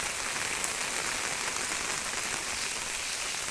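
Heavy rain pours steadily on a farm, a dense continuous hiss of drops hitting the ground, even and unbroken throughout with no voices.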